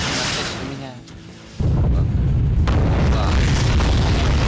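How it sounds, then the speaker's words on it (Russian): A nuclear blast destroying the whole map in a Five Nights at Freddy's Security Breach game, a sudden massive boom that swells into a sustained loud roaring rumble after a brief quieter lead-in. "посмотрим, долетит до меня ядерный взрыв или нет"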